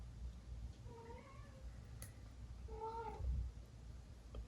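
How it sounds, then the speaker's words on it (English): A house cat meows twice, quiet and a little distant, the two short calls separated by a pause against a low background rumble. "Yeah, oh, now Cat's in here."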